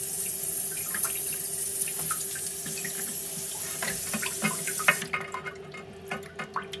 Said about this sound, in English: it's not filling up fast enough and it's making this funny noise